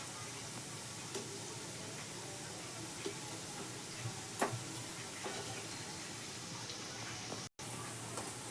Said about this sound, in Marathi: आपला कलर चेंज झालाय पण अजून तळून द्यायचे दोन तीन मिनटं